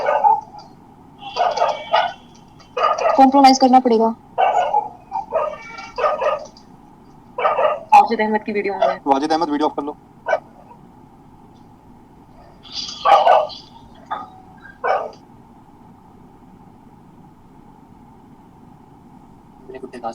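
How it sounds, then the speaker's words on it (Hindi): Dogs bark in short bursts in the background, some near and some yipping, during an online physics lecture call while people talk over them. "मेरे कुत्ते कहाँ से आ गए"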